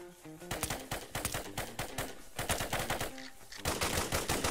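Bursts of automatic gunfire from the Roblox survival game Trident Survival rattle in dense rapid volleys, pausing briefly between bursts, loud and close throughout.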